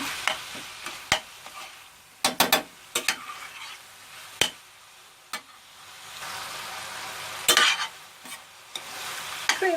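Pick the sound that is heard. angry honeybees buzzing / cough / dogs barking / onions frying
onions frying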